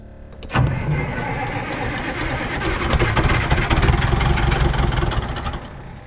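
A small excavator's diesel engine cranks and catches after its fuel filters were drained, a sharp start followed by a steady, loud idle that rises slightly as the throttle opens.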